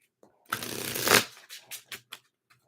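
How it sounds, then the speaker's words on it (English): A deck of tarot cards is riffled in one close, crisp burst lasting under a second, followed by several short taps and snaps as the cards are squared. "So one more shuffle and reverse."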